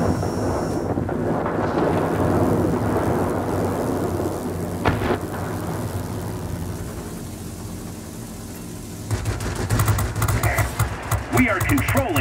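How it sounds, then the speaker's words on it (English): Thunderstorm in the World of Warplanes combat flight game: a steady roar of rain and rumbling thunder, with a sharp crack near five seconds and a louder, crackling burst in the final seconds. "The storm is too heavy."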